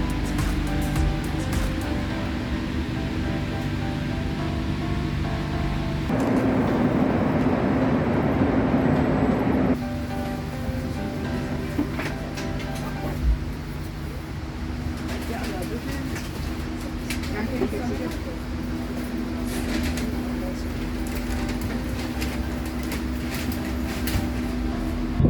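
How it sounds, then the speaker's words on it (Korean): A first-class passenger train in Italy pulls away and keeps running, heard from inside as a steady rolling rumble with a louder, rougher stretch partway through and occasional clicks and rattles. "기차가 또다시 출발합니다."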